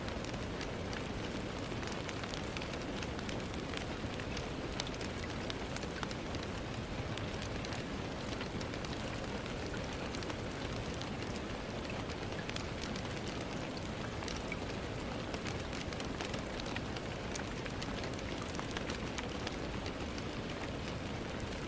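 Steady rain falls at night in a dense, even hiss that continues unbroken and moderately quiet, with no voices.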